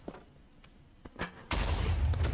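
A Minecraft explosion bursts in with a loud, sustained roar after a few sharp gunshot-like pops, noisy and close.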